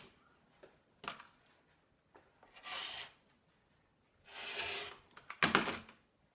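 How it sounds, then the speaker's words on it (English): A rotary cutter slices the bound edge off a towel fabric in a few soft rasping strokes, faint and close, separated by light handling sounds. "take your rotary cutter and your ruler, and the first thing we want to do is get rid of the binding on the edge"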